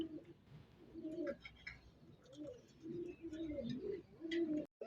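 A domestic pigeon, a male bird of a Rasgolla breed kept at a pigeon seller's, coos in repeated low throaty phrases, faint and close, with short pauses between calls.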